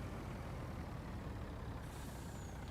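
A truck's air brakes let off a steady broadband hiss in Farming Simulator 19, holding at an even level across the whole moment with a faint high whine near the end.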